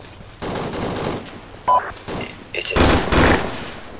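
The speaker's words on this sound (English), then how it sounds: "Gotta find out where that gunfire is coming from." Bursts of rapid automatic gunfire in a video game crackle at moderate distance, with a voice speaking briefly between volleys.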